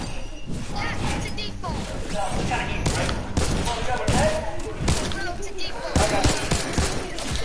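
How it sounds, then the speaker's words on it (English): Gunfire in a video game comes in dense, rapid bursts throughout, several shooters firing, mixed with impacts and game effects while a player talks over it. "someone's shooting at me"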